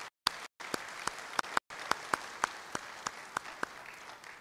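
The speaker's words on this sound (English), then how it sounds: "Ladies and gentlemen, please join me for a big round of applause for our panel speakers." At a naval dialogue conference, the audience applauds the panel speakers with sparse clapping, a few distinct, evenly spaced sharp claps over a faint background patter, cutting out briefly near the start.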